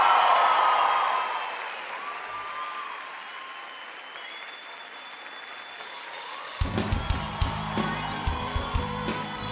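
Studio audience applause greets a Turkish rock singer on the Beyaz Show stage, a dense wash of clapping that fades slightly midway, then swells again as band music kicks in loudly under the clapping.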